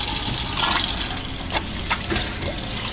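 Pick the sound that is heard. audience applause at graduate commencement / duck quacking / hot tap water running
hot tap water running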